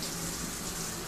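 Water sprays hard from a handheld shower head, a loud, dense, steady hiss of rushing water that stays continuous and close with no voices.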